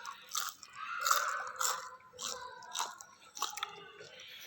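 Crisp potato jalebi is bitten and chewed up close, a run of sharp crunchy bites and crackles in an uneven rhythm with soft wet chewing between them, no voice over it.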